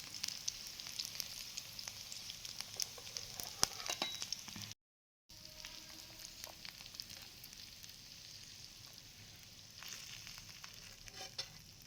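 Chicken satay sizzling in a pan on a home stove, a faint steady fry with occasional stirring clicks and a brief dropout midway.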